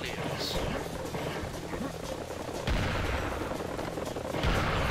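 Gunfire in the classic Serious Sam video game while shooting kamikaze enemies, a muffled, rumbling wash of shots and explosions under a player's talk.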